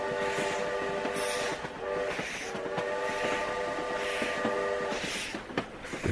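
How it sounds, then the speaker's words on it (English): A moving train sounds a long series of whistle blasts over the steady rumble and clatter of the rails, the horn blowing in repeated bursts close by. "A long series of whistles then blew"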